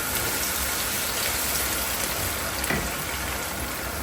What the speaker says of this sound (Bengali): এতে দিয়ে দিচ্ছি বেশ কিছু পেঁয়াজ কুচি